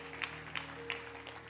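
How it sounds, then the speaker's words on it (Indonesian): A church congregation claps during a worship service, with a few soft scattered claps over a steady sustained musical tone. "Tepuk tangannya yang meriah buat Tuhan kita."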